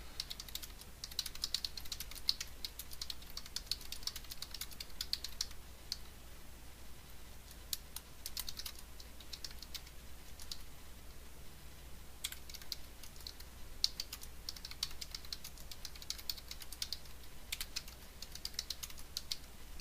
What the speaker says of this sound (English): You can see my typing skills back from 8th grade.